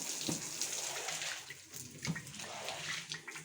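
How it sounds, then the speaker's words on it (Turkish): Water running and splashing while a carpet is washed, a steady close wash of flowing water with soft scrubbing bumps, fairly quiet and without speech. "Halı yıkamaya devam ediyoruz."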